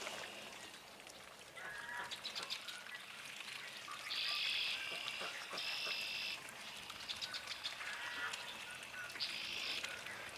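A flock of ducks gathers indoors beside running water, giving repeated nasal, croaking calls in short bursts every second or two over a steady background hiss, moderately distant and fairly faint.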